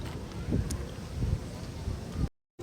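Gusty wind buffets the microphone outdoors in Paris in low rumbling bursts, loud and close, with a brief dropout near the end.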